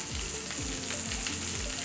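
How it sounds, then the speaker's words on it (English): Cauliflower pieces sizzle loudly in hot frying oil, a continuous crackling hiss with a few dull thumps and scrapes of cooking underneath. "That sound, that sizzle. I love a good sizzle."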